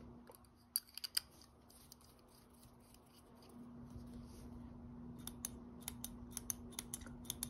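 Zebra G-750 metal pen with an upgraded refill clicked repeatedly, sharp crisp clicks in quick pairs early on, then a quieter stretch, followed by a steady series of close clicks over faint background hum.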